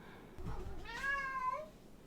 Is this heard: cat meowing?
yes